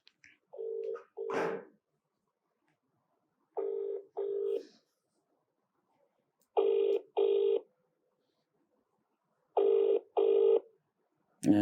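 A phone ringback tone on an unanswered call repeats, paired double rings separated by long silences, several cycles with no answer, fairly clear and close.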